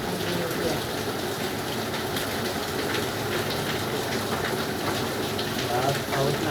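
Steady, dense rain pours without a break in a home setting, a constant wash of drops drumming on surfaces, with faint indistinct background activity underneath.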